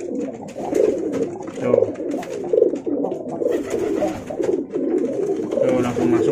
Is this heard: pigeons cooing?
yes